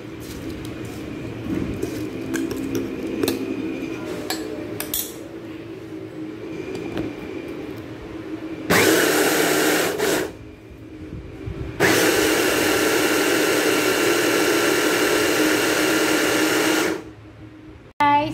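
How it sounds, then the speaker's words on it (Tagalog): Electric grinder milling soaked rice with radish broth, running loud and steady in two long whirring stretches separated by a short pause, with quieter handling clatter beforehand. "yung rice naman na gigilingin natin, ito yung nilagyan ko na ng sabaw ng radish. Ilalagay lang natin dito. Igilingin natin ito lahat."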